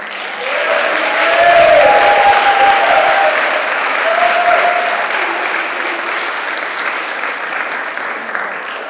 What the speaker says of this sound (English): Please give a loud round of applause for Jimmy Madon